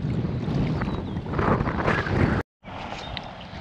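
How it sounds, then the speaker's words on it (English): Wind buffets a microphone while kayak bass fishing from an Old Town AP120 on a lake: loud, rumbling gusts roar close to the mic, then break off sharply and resume more softly. "It's kind of windy, that you could probably hear."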